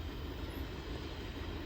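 A train passing on a rail line, heard as a faint, distant, steady rumble with no voices.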